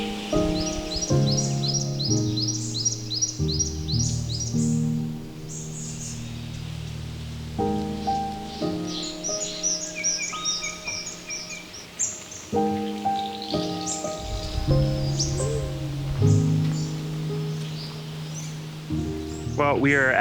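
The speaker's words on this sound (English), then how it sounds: "The bird song is absolutely amazing." Birds sing in the Karri forest at Lake Maringup, with repeated melodic phrases and bright whistled notes close by, and overlapping calls continuing steadily.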